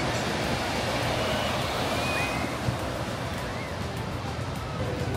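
Ocean waves at Santa Monica Pier wash in a steady, loud surf roar mixed with wind buffeting, with a voice speaking faintly.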